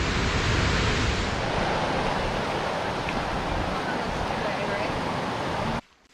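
A Yellowstone waterfall roars as a steady, dense wash of rushing water, loud and continuous throughout before cutting off abruptly at the end.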